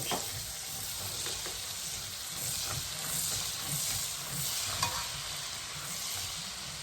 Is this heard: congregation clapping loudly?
no